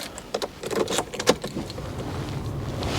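Metal car keys for a Nissan Micra jingle and clink in a few quick bursts close up, then fade into a quiet low rumble.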